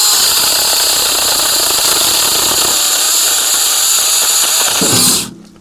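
A small battery-powered mini chainsaw buzzes loud and continuous at high speed, cutting branches held in a sawbuck, then winds down abruptly into near silence.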